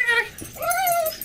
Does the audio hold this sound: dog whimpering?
yes